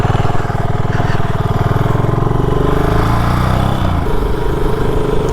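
A BSA 650 Gold Star single-cylinder motorcycle is ridden at road speed, its engine giving a steady, throbbing drone up close that shifts pitch slightly as the throttle changes, with wind noise around it.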